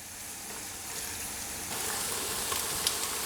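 Veal pieces browning in a pan with a little onion make a steady, hissing sizzle that swells slightly midway, close and moderate in level, with no talking.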